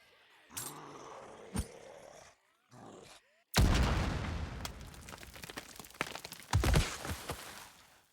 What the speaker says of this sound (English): Stay clear of that thing! I'm throwing a grenade!